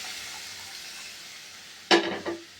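A soft, steady sizzle of tempering in a pan suddenly flares into a loud hissing burst as cooked lentils are poured in, then a second, smaller surge follows.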